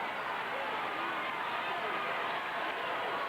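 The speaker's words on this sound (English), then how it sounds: "The Rutgers crowd on its feet." A home crowd at a Rutgers women's basketball game against Tennessee in the 2000 NCAA Final Four roars in a steady, dense arena din that fills the whole stretch, with a commentator's voice faintly underneath.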